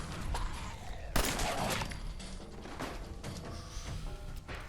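Gunfire in VATS targeting during a video game fight with ghouls: a sharp burst of shots cracks out, followed by scattered impacts and clatter over a busy game soundscape.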